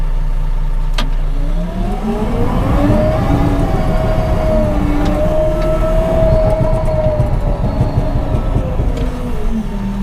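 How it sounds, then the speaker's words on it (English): A tractor's four-cylinder engine drones at close range throughout, its pitch climbing and holding as it revs under load, with a low rumbling idle beneath. "this tractor's got a 4-cylinder engine in it"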